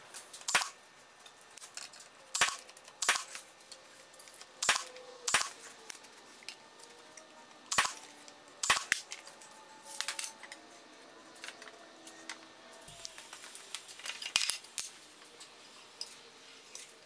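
Sharp nail gun shots fire one after another at irregular intervals while plywood pieces of a kids' bookshelf are fastened, each crack close and loud, with quiet pauses and light handling clatter between them.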